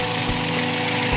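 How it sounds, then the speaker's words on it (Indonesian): Toyota Vios 2014 sedan engine freshly started and idling smoothly, a steady close mechanical hum with even low rumble throughout, no voices. "Bisa dengar sendiri, ini baru aja dihidupin. Nah, suaranya halus ya, guys. Mesinnya halus, bisa didengar sendiri."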